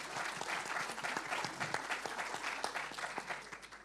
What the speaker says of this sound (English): I think that actually deserves a bit of a round of applause for Tom.